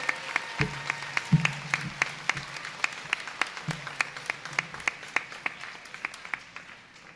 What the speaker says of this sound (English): please join me in another round of applause for these dynamic scholars